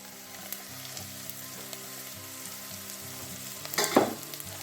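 Onions and asparagus sauté in a pan for a cream of asparagus soup, giving a steady low sizzle throughout with a brief louder burst of clatter or stirring near the end, no voices.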